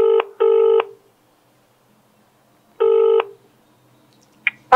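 A mobile phone sounds keypad dialing tones while a call is placed: three short, clean electronic beeps separated by silence, with a faint click at the end.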